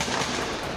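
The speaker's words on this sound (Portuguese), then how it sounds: "Madrugada com tiroteio, rajadas de tiros." Recorded nighttime gunfire bursts played back, a dense, loud crackle of rapid overlapping shots filling the brief moment without any speech over it.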